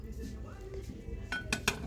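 A large 26 cm watercolor-pattern plate handled in a shop, giving a few light ceramic clinks near the end after quieter rustling handling sounds.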